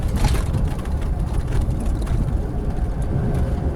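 A car descends a mountain road through Taksin Maharat National Park toward Mae Sot, its engine humming steadily at low revs with a continuous close, low rumble and no acceleration.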